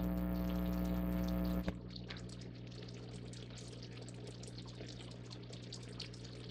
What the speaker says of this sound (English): See those bubbles coming out of there?